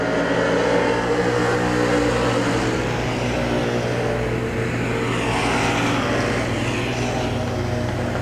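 Race cars lapping Hagerstown Speedway make a continuous, loud engine roar that swells and fades as the pack circles, with no pause throughout.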